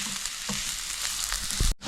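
Sliced onions and carrot sizzle loudly in a hot pan, with a few quick stirring scrapes before the sound cuts off abruptly.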